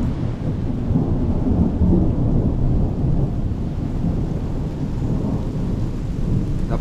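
Heavy rain pours at a cabin while thunder rumbles, a loud, dense, continuous roar of rainfall with deep booming undertones and no voices.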